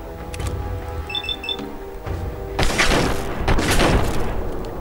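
Automated turret gunfire in the video game Fallout 4, heard as heavy bursts of booming shots in the second half, preceded by faint beeping tones, with no talk.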